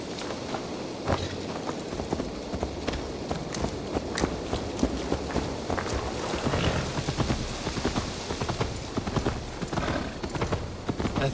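Horse hooves clip-clop at a steady walking pace in the game Assassin's Creed Valhalla, with a rain-like ambient bed beneath the continuous, moderately close footfalls.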